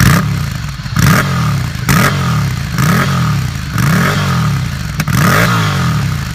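A loud Ducati air-cooled V-twin motorcycle engine revs repeatedly in bursts, rising and falling roughly once a second with a deep, throbbing exhaust note and mechanical clatter.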